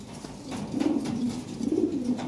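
Lahore pigeons coo in soft, low, rolling calls, a few close phrases in quick succession with no talk over them.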